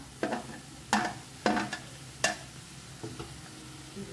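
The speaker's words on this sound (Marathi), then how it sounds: "सो कांदे न्ही आमकां हांगा एक बरें 2-3 मिनटांनी बरें फ्राय करून घेवंक जाय" Onions and chopped tomatoes frying in a pan for a brinjal bhaji, with a quiet background sizzle broken by several sharp scraping stirs of the spatula, close by and with no talking.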